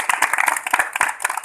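Close, lively clapping from an audience at a Hindi election debate in Pali, dense overlapping claps in an uneven rhythm, short and loud, with no talking.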